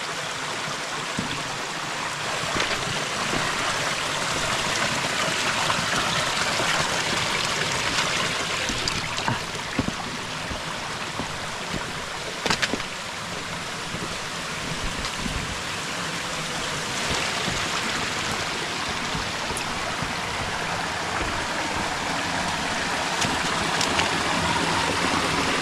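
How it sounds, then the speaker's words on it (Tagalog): A very small stream flowing, a steady close wash of trickling, splashing water that continues evenly without pause, with no voices. "Yung sapa namin dito, kahit napakaliit lang"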